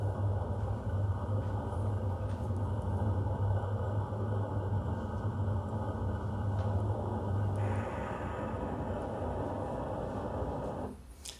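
AI-generated sound built from a text prompt about a quenching, drenching rain: a dense, steady broadband wash with a low rumbling hum, continuous and fairly loud, thinning out near the end.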